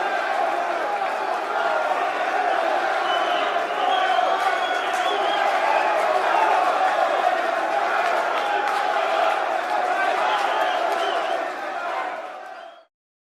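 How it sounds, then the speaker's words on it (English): A large arena crowd at a boxing match in Moscow fills the air with a steady, dense roar of cheering and clapping, sustained at even loudness for most of the clip before cutting off abruptly. "The crowd, recognizing brilliance even against their own fighter, applauded the display"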